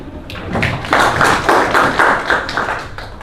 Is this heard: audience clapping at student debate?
yes